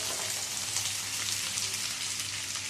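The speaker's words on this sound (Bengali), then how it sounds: "কাঁকরোলটাও আলুর সাথে ভেজে নেবো" Steady, close sizzling of spiny gourd and potato frying in hot oil, a continuous crackling hiss with no pauses.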